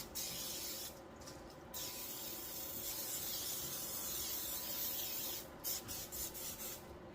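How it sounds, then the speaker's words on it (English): A can of cooking spray sprays onto a baking dish in a home kitchen, a steady close hiss lasting several seconds with a couple of brief pauses and short bursts near the end. "real quick I'm going to go ahead and just spray my dish"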